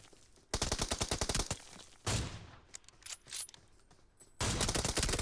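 Video-game gunfire: rapid automatic bursts of shots, loud and close, with a long burst at the start, a single heavy blast in the middle, scattered softer shots, then another sustained burst at the end.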